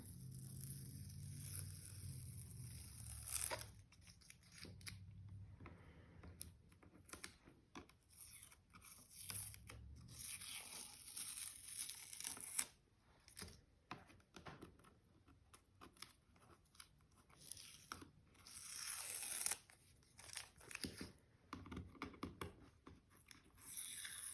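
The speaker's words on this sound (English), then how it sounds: "So now for the final tape peel reveal" Masking tape is slowly peeled off a finished watercolor birch tree forest painting, a quiet, close series of crackling, ripping strips broken by short pauses, with no voices.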